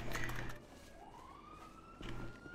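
A police siren in GTA 5 Online, a single wailing tone sweeping upward and holding, fairly faint behind other game sounds.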